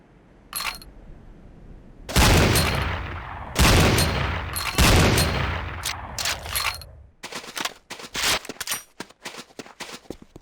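Gunfire at a firing range in the Command & Conquer Renegade video game: a few loud separate shots with ringing decay, then a rapid burst of sharp automatic fire, close and without any talk.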